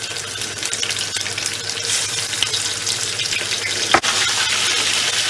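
Ginger garlic paste sizzles in a pan of fried cloves for kala chana pulao, with a steady close hiss throughout and one sharp clatter partway through.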